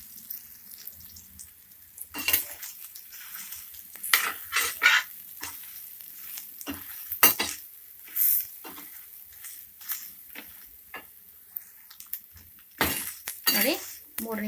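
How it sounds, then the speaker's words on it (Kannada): Soya chunks fry in hot oil in a pan, with a soft sizzle under repeated scraping and stirring clatter from a utensil against the pan, close by. "ಈಗ ಈ ಸೋಯಾ ಚಂಕ್ಸ್ನ ಹಾಕ್ಕೊಳ್ಳಿ. ಹಾಕ್ಕೊಂಡು ಒಂದು 3 ನಿಮಿಷ ಫ್ರೈ ಮಾಡ್ಕೊಬೇಕು."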